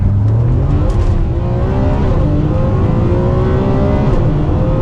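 A Ferrari 599 accelerates hard in sport mode, its engine a loud, continuous, close-up roar that climbs steadily in pitch through the gears without a break.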